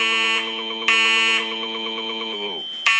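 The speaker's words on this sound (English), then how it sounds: "Okay, I just pulled the fire alarm at Chuck E." A fire alarm sounds loudly inside a Chuck E. Cheese's restaurant, a harsh electronic tone pulsing in rapid repeated bursts with a shrill high squeal that cuts in and out.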